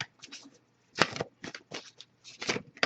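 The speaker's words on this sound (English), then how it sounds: "I'll give it a few more shuffles" Tarot cards being shuffled in several short riffling bursts with brief pauses between, close and fairly quiet.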